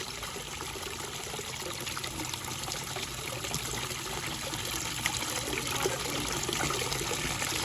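Pool water recirculating through 100 feet of black hose pours back into a backyard pool, making a steady close trickling splash that runs unbroken from start to finish.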